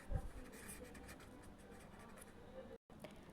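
Pen writing numbers by hand during a decimals lesson, soft quiet scratching strokes with a short silent gap near the end.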